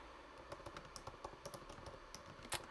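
Keystrokes on a computer keyboard, a steady run of quiet, close clicks with one louder strike near the end, no voices.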